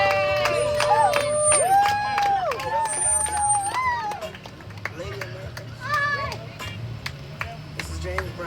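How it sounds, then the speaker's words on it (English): A rally crowd welcomes a speaker from the New Black Panther Party at an outdoor community celebration with a loud wash of cheers, whoops and scattered clapping that keeps going throughout, with voices rising and falling over it. "Let's give him a brief round of applause."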